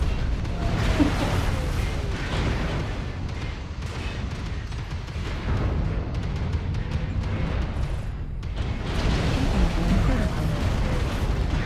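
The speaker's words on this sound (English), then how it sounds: "I can't hear anything over the explosions." Explosions rumble through a MechWarrior Online battle, a dense, loud, unbroken wash of booms and blasts with dense weapon fire and a few brief dips.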